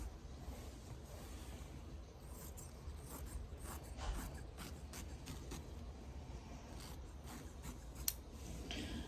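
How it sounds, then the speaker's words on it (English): Sewing scissors snip away excess quilting fabric in a series of quiet, close, irregular cuts over a low, steady background hum, with one sharper snip near the end. "I'm just cutting off my excess just to make it a little less cumbersome."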